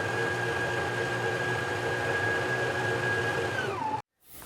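A sewing machine runs steadily for about four seconds, stitching down the folded-under edge of a jacket facing with a 1/4-inch stitch, then slows and stops abruptly, leaving a short silence before faint room noise returns.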